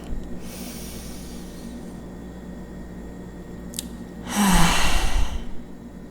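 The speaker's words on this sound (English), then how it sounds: "Take another full deep breath." A single full, deep breath drawn in and released audibly near the microphone over about a second, alone against a quiet background.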